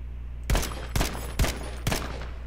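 Gunfire in a first-person shooter video game: four sharp, loud shots spaced about half a second apart, standing out against quiet background noise.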